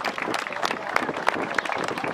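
Moderate applause and clapping from a crowd lining a gaucho parade route in Bajo Hondo, greeting the horseback group Los Matreros at the anniversary parade, steady and fairly distant.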